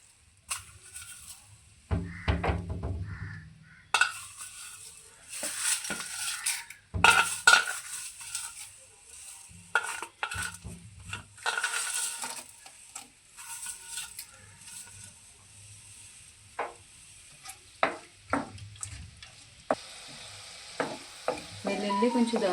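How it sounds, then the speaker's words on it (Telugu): Tempering spices, crushed garlic, curry leaves, dried red chillies, cumin, mustard seeds and lentils hit hot oil, bursting into loud crackling sizzles that come in bursts, with stirring scrapes and clinks of a spoon against the pan, fading into quieter pops. "నూనె వేడెక్కాక పోపు దినుసులు, దంచి పెట్టుకున్న వెల్లుల్లి, కరివేపాకు, ఎండుమిర్చి, జీలకర్ర, ఆవాలు,"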